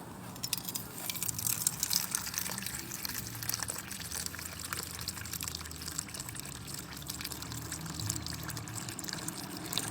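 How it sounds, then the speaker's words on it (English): Water poured into a hole during an equator experiment beside the Nakuru–Subukia road in Kenya, a continuous close gurgling, splashing trickle that runs steadily without a break. "That's why you are pouring water very perpendicular to this hole"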